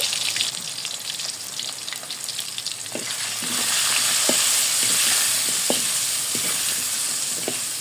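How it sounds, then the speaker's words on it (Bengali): Potato pieces with salt and turmeric fry in oil, a steady bright sizzle that swells louder midway, punctuated by several soft knocks of a spatula turning the pieces, close up with no voices. "আজকে আমি মুঠে আলু দিয়ে সামান্য লবণ আর হলুদ দিয়ে ভেজে নিব"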